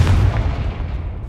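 Confringo blasting spell exploding in Hogwarts Legacy, a single deep booming blast with a rumbling low-end tail that fades over about a second, loud and close.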